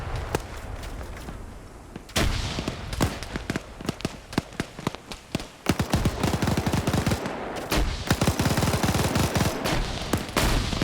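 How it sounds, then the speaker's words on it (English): MG3 machine guns firing in a video game battle, dense rapid bursts of automatic fire layered with other shots, loud and continuous, broken by a short lull partway through. "now you got the Blue 4 faction's MG3s firing to suppress"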